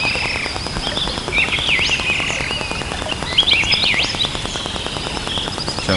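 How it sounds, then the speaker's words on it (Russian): Birds sing in a spring forest near a cabin, repeated bright chirping phrases rising over a steady insect-like buzz and background hiss, moderately close and continuous without talk. "Птицы кругом поют."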